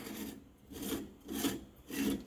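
Two halves of a generic moka pot are screwed tightly together, giving three rhythmic rasping, grinding twists of metal threads at close range.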